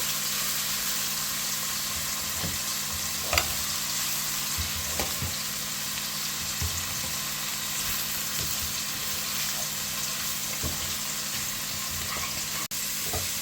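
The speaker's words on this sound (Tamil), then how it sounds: "இப்போ அடுப்பை வந்து நல்லா குறைச்சி சிம்மில் வச்சுட்டு நல்லா கிண்டி விடணும்" Baby shark varai cooks in a pan on a low flame, making a soft, steady sizzle and simmer with occasional faint scrapes and taps of stirring across the whole stretch, no talking.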